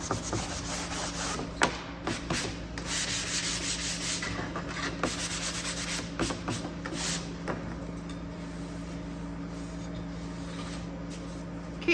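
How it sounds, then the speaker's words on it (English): Hand sanding of a wooden door sign piece, steady back-and-forth rubbing strokes close up, with a low hum underneath and no talking. "Again, I'm gonna sand so I don't have this showing at the top."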